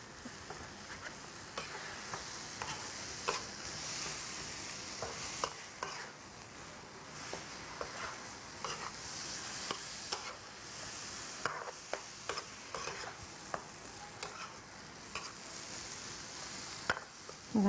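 Thai chili paste (nam prik sao) being stir-fried in a pan, a steady soft sizzle with scraping stirs and light utensil clicks throughout, fairly quiet and without talk.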